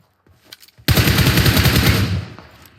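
Sustained automatic gunfire from PUBG Mobile bursts in suddenly after a few faint clicks, loud and dense for over a second as rapid shots roll together, then tapers off.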